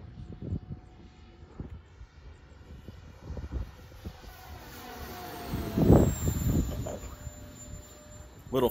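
A model airplane on its maiden flight drones through the air, its engine hum rising and swelling as it passes nearer, with wind buffeting and a few knocks close to the listener.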